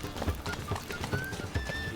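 Roach the horse's hooves clip-clop in The Witcher 3 at a steady walking rhythm, moderately close, with faint game ambience and tonal chimes behind them.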